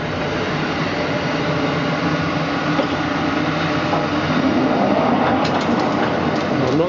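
A Schiess ZK180 vertical borer runs in gear A, giving a steady, loud mechanical rumble with rhythmic clattering throughout, with no talking.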